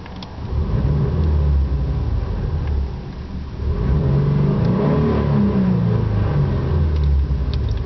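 A 2003 Subaru Impreza 30th Anniversary edition engine revs up to around 4000 RPM, a loud close rumbling climb that dips briefly midway before rising again and holding.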